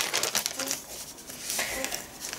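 A plastic bag crinkles in several short, close rustling bursts as a small packet holding a spatula is unpacked from an order, with quiet gaps between the handling sounds.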